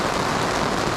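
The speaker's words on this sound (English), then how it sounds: "it's just started to piss down rain" Heavy tropical rain pours steadily onto a fishing canopy at Crocodile Creek in South Townsville, a dense, constant close drumming hiss with no pauses.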